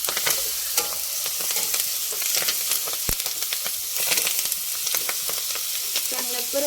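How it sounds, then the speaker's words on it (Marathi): Moringa leaves sauté in a pan, a continuous close sizzle broken by rapid stirring scrapes and taps of a utensil against the metal. "शेवग्याचा पाला असा परतून घ्यायचा"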